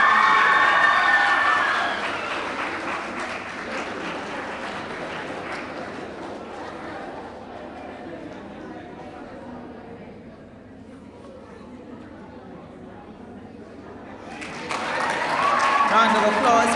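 Audience applause for top primary school graduates at a 2021 graduation ceremony, a broad steady wash of clapping that swells at the start and end, with speech over it.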